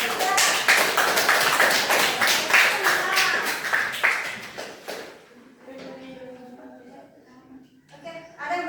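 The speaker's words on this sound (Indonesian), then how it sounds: "Tepuk tangan untuk kelompok 3." Classroom students clapping for a presenting group, about five seconds of brisk, fairly loud applause that stops abruptly, followed by quieter talk and background voices.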